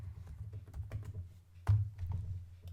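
Password being typed on a computer keyboard, a quiet, irregular run of light key clicks with one firmer press near the middle, heard close and alone.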